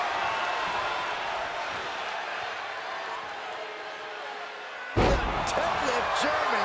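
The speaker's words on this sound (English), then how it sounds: "suplex. The amount of force behind that is enough to knock a normal person out" A heavy suplex slam in the WWE 2K24 wrestling game, from a Kurt Angle vs Ken Shamrock match, lands as one sudden loud impact after steady arena crowd noise, with a commentator talking throughout.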